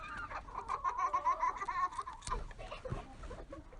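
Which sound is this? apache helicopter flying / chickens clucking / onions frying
chickens clucking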